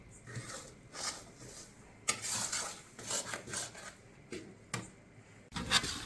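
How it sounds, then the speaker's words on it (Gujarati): Spatula scraping and stirring flour roasting in ghee in a pan for a jaggery sweet, with irregular rubbing and scraping strokes and a few sharper clinks of metal against the pan. "લોટ આપણો ઘણો ફેંકાઈ ગયો છે અને તવીથો પણ હળવો ફરે છે"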